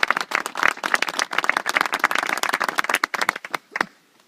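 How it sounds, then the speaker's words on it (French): A small group gives brief, lively applause for the hunting beaters and their dogs, the clapping dense for a few seconds and then tapering to scattered claps before stopping. "il y aurait peut-être un petit applaudissement pour Bertrand, Ghislaine et puis toute l'équ"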